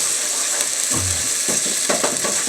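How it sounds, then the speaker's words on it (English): Tomato paste and chipotles stirred in a hot pot for roasted tomato bisque, a loud continuous sizzle with a few scraping, bumping stirs, no talking. "We're going to stir this up."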